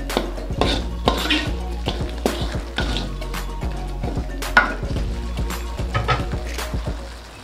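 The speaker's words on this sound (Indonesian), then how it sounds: "Kita aduk lagi." A utensil stirs spice paste with lemongrass and galangal in a pan for tuna balado, repeated metallic scrapes and clinks against the pan over a low steady hum and soft sizzle.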